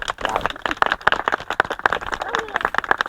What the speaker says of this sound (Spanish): Pues le damos un aplauso a este árbol tan viejo